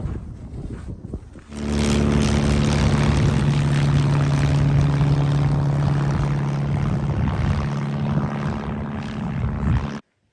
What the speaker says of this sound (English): This is on a frozen lake close to our home here, and there's a plane coming in right there.